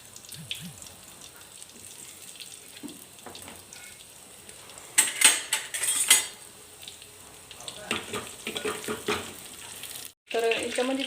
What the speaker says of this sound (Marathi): तर याच्यामध्ये मी दोन पळ्या तेल टाकलं तर याच्यामध्ये मी आबडधोबड हा लसण आहे ना ठेचून घेतलेला आहे तर तो ॲड करते